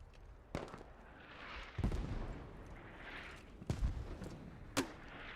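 Incoming mortar rounds in the game Squad land as a string of dull booms and sharp cracks, about four distinct impacts at irregular spacing, fairly faint and distant-sounding, with no speech.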